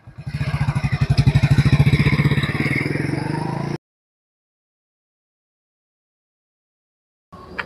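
A motorcycle engine runs close by with a rough, pulsing rumble for a few seconds, then cuts to silence before a brief noise at the end.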